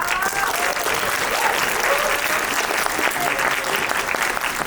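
Sustained audience applause for a guest speaker at an evening talk, steady and fairly loud throughout, with a few voices calling out inside the clapping.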